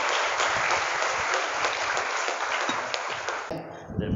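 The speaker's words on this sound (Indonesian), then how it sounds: "Tepuk tangan buat rekan kita" A crowd of students at a National Heroes Day assembly at an Islamic school claps for a classmate, a dense, sustained patter that cuts off near the end as a brief voice follows.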